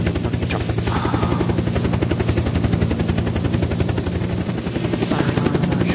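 Helicopter rotors in the Unturned video game, a loud, steady rapid chop that keeps up without a break right through the stretch, with no voices over it.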